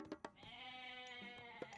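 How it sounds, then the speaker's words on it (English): A goat gives a single drawn-out bleat in the Age of Mythology video game, fairly faint, with a few short clicks of game sounds around it. "But you got a lot of goats here."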